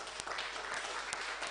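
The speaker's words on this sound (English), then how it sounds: "I think another round of applause for him" An audience applauds with a steady wash of clapping, soft and somewhat distant, throughout the brief moment.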